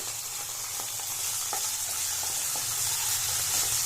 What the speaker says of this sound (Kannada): ಈ ಹಂತಕ್ಕೆ ತೆಂಗಿನಕಾಯಿ ಎಲ್ಲ ಚೆನ್ನಾಗಿ ಫ್ರೈ ಆಗಿದೆ